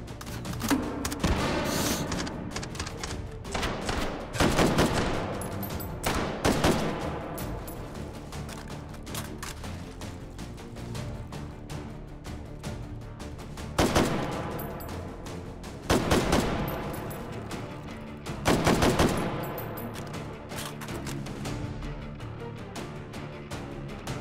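Gunfire in the Hot Dogs, Horseshoes & Hand Grenades VR game, with sharp bursts and single loud shots repeating at irregular intervals over a steady background.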